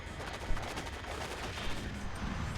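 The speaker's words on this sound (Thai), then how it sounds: "มันยิงกันอยู่ฝั่งนี้วะ" Gunfire exchanged in the video game Area 51, a dense run of rapid shots and bursts that is fairly faint and continuous, with a few slightly sharper cracks standing out from the clatter.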